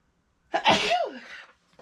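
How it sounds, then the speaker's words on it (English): A single loud, close sneeze from a man with allergies, sharp at the onset and then trailing off, alone in a quiet room, followed by a faint sound at the end. "I'm going to sneeze in just a second here."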